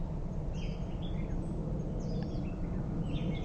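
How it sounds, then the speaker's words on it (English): Birds chirp in short, scattered calls over a steady outdoor hum in nature, with faint insect sounds mixed into the soft background and no voices. "You hear the voice of the birds, you hear all the cricket voice"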